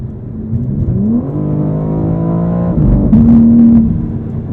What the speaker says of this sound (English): The snarling overrun is a treat.